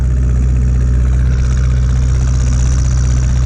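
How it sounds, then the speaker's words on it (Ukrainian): A tractor engine running in a field, slightly worn, holds a loud, steady, close-up idle-like drone with a strong low rumble and no change in pace throughout. "Ну, Звісно, моторчик уже в мене там теж трохи уставший."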